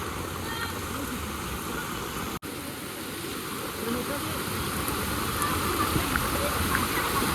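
Floodwater in Karjat in 2024 surges through a building, making a loud, steady, broadband rushing roar that stays constant throughout, with a single brief dropout partway in.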